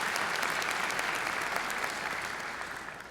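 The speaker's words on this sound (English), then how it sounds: "we will give her a round of applause" An audience at a 2026 School of Nursing pinning ceremony breaks into steady, dense applause that holds throughout and eases slightly toward the end.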